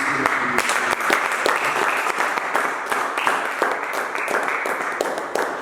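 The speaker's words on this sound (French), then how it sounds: "On acclame Jésus." A church congregation claps in sustained, dense applause that stays steady and loud for several seconds, with a few voices faintly mixed in.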